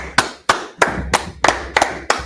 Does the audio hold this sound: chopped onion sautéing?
no